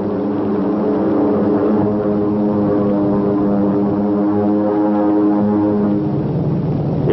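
Propeller transport plane of the wartime US Army Air Forces Air Transport Command flying steadily, a loud, continuous droning engine roar with a throbbing rhythm, close and alone throughout.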